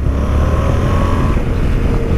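A 2017 Yamaha Tracer 700 motorcycle's small engine runs steadily at a constant pitch, loud and close, with a low droning rumble and no voices.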